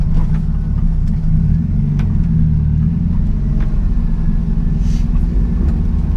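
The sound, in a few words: turbocharged 1992 Honda Civic EG B18 C4 driving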